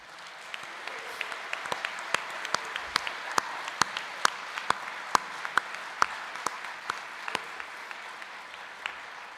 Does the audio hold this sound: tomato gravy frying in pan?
no